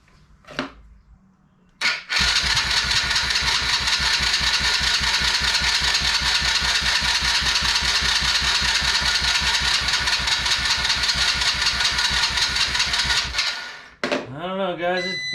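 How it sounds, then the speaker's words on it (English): A Chinese kid's quad engine cranks over steadily for about eleven seconds, a loud rapid mechanical churning that never catches, with brief noises before and a voice speaking after the cranking stops. "see if we can give it some gas at the same time as it cranking over"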